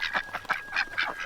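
Farm ducks quacking in a rapid series of about six loud, nasal calls in close succession, near and clear with no voices over them.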